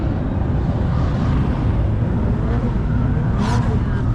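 Drift cars practicing at a DriftCon event, a continuous roar of engines and tires heard at a distance, steady and broad, with a brief louder swell near the end as a car passes.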